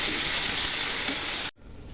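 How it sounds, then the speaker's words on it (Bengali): Potatoes and chickpeas sizzle steadily in oil in a covered pan, a loud continuous frying hiss that cuts off abruptly near the end, leaving only faint background. "এখন এটা ঢেকে ঢেকে ভাজবো।"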